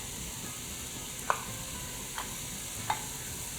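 Frozen spinach stirred into onions and garlic in a pot, a faint steady sizzle with three soft clicks of a spoon against the pot, no speech.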